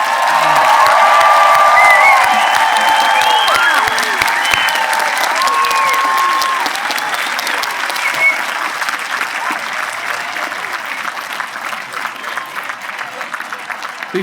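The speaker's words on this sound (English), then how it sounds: "How about one more round of applause for these kids?" Sustained applause from a large audience at a high school graduation ceremony, loud and steady throughout, with scattered cheers and whoops mixed into the clapping.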